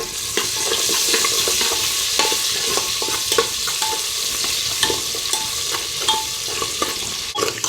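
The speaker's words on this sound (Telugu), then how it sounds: "ఆనియను పచ్చిమిర్చి చిన్న ఆనియను నాలుగైదు పచ్చిమిర్చి చీలికలు వేసి కాస్త వేయించుకుంటున్నా" Sliced onions and green chilli pieces stir-fry in a pan for egg biryani, a loud continuous sizzle broken by repeated scraping and clinking of a spatula, close by.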